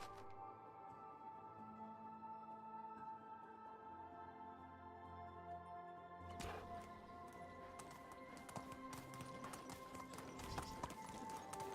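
Horse hooves clop in a steady trot on a dirt path in Medieval Dynasty, faint and rhythmic under a game music bed that brightens partway through.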